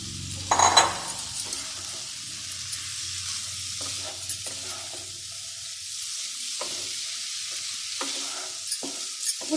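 Vegetables fry with masala in a pan, a loud clatter of being added giving way to a steady sizzle punctuated by repeated scraping stirs, close up with no talk.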